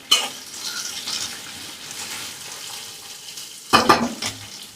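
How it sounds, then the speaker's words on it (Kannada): Chopped onions frying in oil for keere soppu palya, a continuous close sizzle with a burst of louder scraping and stirring near the end, no talking. "ಈರುಳ್ಳಿ ಎಣ್ಣೆ ಜೊತೆನಲ್ಲಿ ಚೆನ್ನಾಗಿ ಫ್ರೈ ಆಗಬೇಕು"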